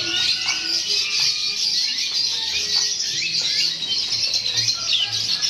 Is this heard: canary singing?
yes